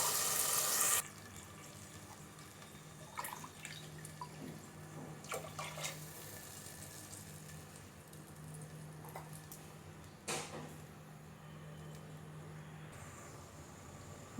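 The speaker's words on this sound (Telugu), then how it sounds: "వాటర్ వేసుకోవాలి" Water runs steadily into a pan of softened tomatoes for tomato bath, a continuous close pour lasting most of the stretch, with a few brief clinks and splashes along the way.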